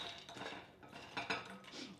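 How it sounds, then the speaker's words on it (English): A small fork breaking up a tray of baked spiced mixed nuts makes soft, close scraping and clinking strokes against the pan, a quick irregular run of faint taps and scrapes. "So I've got this little fork here. I'm gonna kind of break it up a bit"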